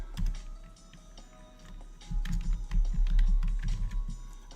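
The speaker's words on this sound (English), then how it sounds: "Probably don't need to be typing these in all the time" Rapid typing on a computer keyboard, clustered bursts of crisp key clicks, close and clear, picking up in density during the second half.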